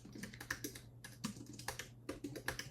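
Quick, uneven keystrokes tapped on a computer keyboard while entering text in design software, close and clear over a steady low hum, with no talking.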